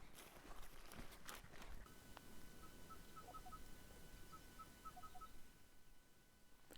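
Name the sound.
crested bellbird calling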